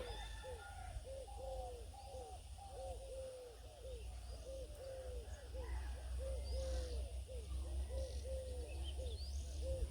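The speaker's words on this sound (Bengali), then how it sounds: "এই পাখিটা ডাকতেছে" A bird, probably a dove, calling repeatedly outdoors near mustard fields, a long run of soft, rhythmic hooting coos with faint distant chirps over a low rural background hum.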